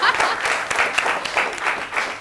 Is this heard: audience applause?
yes